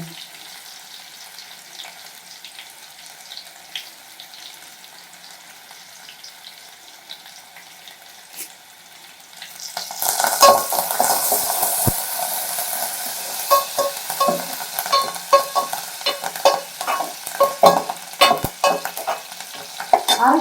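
Curry leaves crackle and sizzle in a pan, quiet at first, then a sudden loud burst of frying with steady stirring scrapes and irregular pops through the rest, all without voices.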